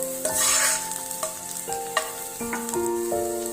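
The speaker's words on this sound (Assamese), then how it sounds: "এতিয়া তেলত এচামুচ হালধি দিলোঁ। হালধিখিনি দিও ভালদৰে লৰাই দিছোঁ।" Turmeric and onions frying in oil while being stirred for an Assamese fish curry, a steady sizzle with scraping strokes of a spoon against the pan and faint tonal clinks, up close with no talking.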